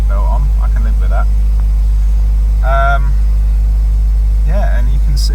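A Toyota with TRD parts runs at a steady idle, a loud, constant low engine hum throughout, with a person speaking over it at times.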